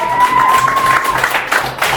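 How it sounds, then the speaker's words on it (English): Audience applause at a magic show rises as a volunteer is called up, a steady patter of clapping with a faint whistle-like tone running through it, mixed with crowd noise. "Give a big round of applause!"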